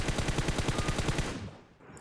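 Rapid M4 rifle fire in a battle video game, a fast regular burst of about a dozen loud shots over roughly a second and a half, then fading away.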